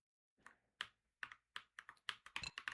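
Numbers typed on a computer keypad, a run of about eleven crisp, separate key clicks that come faster and closer together toward the end, close and clear with no talking.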